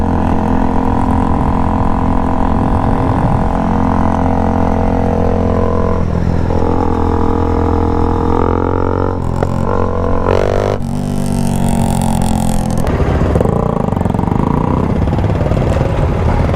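A loud supermoto dirt bike engine idling and revving up close in the city, a continuous raw droning rumble with surging throttle blips and clattery bursts.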